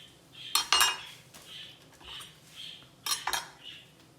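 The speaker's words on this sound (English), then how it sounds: "Now we will do the avocado and I will show you guys how to cut an avocado." A kitchen knife works through an avocado with a few sharp clinks and scrapes against a board or dish, two clusters of crisp contacts separated by softer handling sounds.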